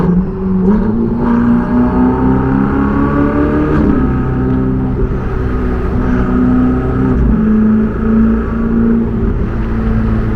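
A Ferrari 488 GTB engine shifted into manual mode revs and accelerates loudly and up close, its harmonic pitch rising through sweeping climbs and dropping at shift points, a steady mechanical roar throughout.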